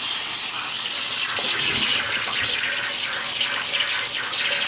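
Water splashes and runs at a sink as a face is wetted before shaving, a steady, fairly loud rushing hiss with a few small splashes and drips, no voices.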